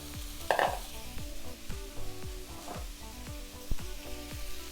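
Onions and garlic sauté in a pot for vegan pea soup as frozen peas go in, with a soft steady sizzle under repeated scraping stirs of a utensil and a few clattering drops.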